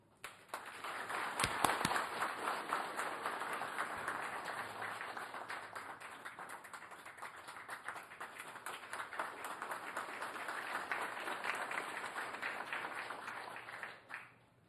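Applause for the President from military officers at a dinner in Heroes Hall, Malacañang, a sustained wash of clapping at moderate distance lasting around fourteen seconds, with a few sharper claps near the start before it fades out.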